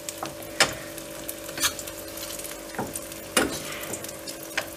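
Eggs fry in a pan in a blend of butter and oil, giving a continuous crackling sizzle close by, with a few louder clatters of the spoon as fat is basted over them.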